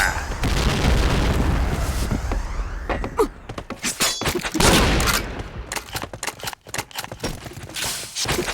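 A grenade explodes in a shooter video game. A loud, sustained blast and rumble opens the clip, then sharp cracks, shattering and scattered gunfire-like bangs follow in quick succession, all close and harsh.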